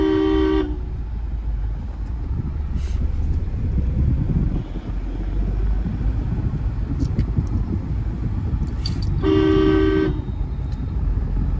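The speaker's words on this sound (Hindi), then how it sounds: "इसको हॉर्न दो लॉन्ग।" Two long, loud vehicle horn blasts, one at the very start and another near the end, over steady engine rumble and road noise.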